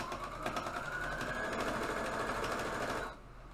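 A sewing machine runs steadily, stitching fabric layers with green thread for a cup-shaped angel craft, a continuous close whirring hum that cuts off near the end.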